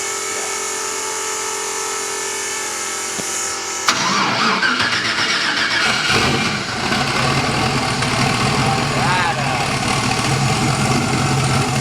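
After a few seconds of quiet hum, a Mazda RX-7's eight-rotor rotary engine cranks and fires up, then settles into a steady, even idle.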